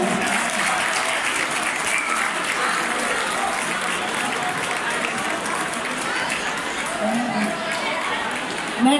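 Audience at a Granada wine festival applauds a singer, a dense, steady wash of clapping from a large crowd lasting throughout, with faint voices mixed in.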